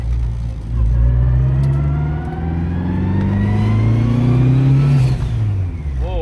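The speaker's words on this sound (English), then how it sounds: "That blow-off valve is quick." A turbocharged Honda Civic EM2 engine revs hard and loud, pitch rising and falling through several pulls, with a quick hiss from the blow-off valve as the throttle drops near the end.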